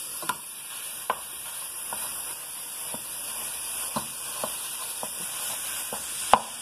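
Ground pork sausage fries over high heat in a home kitchen skillet for sausage gravy, making a continuous soft sizzle punctuated by regular sharp pops and clicks, with no voices.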